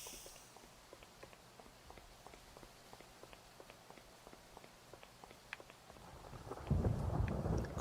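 Rain and thunder in the video game Vampire Rain: Altered Species. Footsteps tap steadily over a faint rainy hush, then a deep, loud thunder rumble rolls in near the end.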